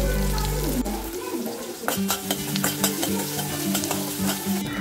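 Crushed garlic and onion frying in a pan for a Tamil egg curry, a steady loud sizzle with repeated stirring scrapes and clinks of a spoon against the pan.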